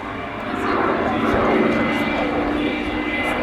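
A Rolls-Royce Griffon-engined fighter aircraft roars past at an air show, a loud steady engine drone swelling after the first half second, with voices talking over it.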